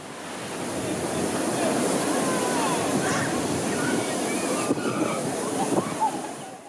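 Ocean surf rolling onto a beach near Accra in the evening, a steady broad wash of waves close by with wind noise on the microphone and no clear individual breaks.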